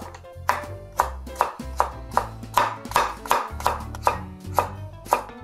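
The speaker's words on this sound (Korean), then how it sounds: "당근 3분의 1쪽을 반반하게 자리를 잡아주세요. 그리고 얇게 썰어줍니다." A knife thinly slices a carrot on a cutting board with about a dozen crisp, evenly spaced chops, each a sharp close tap followed by a brief ring.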